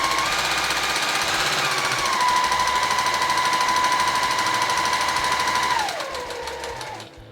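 A sewing machine runs continuously while stitching a straight line on a handicraft project, with a steady whirring hum and fast needle rhythm. It slows and winds down near the end.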